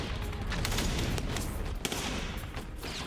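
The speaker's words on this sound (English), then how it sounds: "machine gun fires from a 250-round belt fed from the side" Belt-fed machine gun firing from a 250-round side-fed belt in a Pacific War battle, heard as dense, sustained bursts of gunfire with sharp cracks throughout, loud and continuous with no talk.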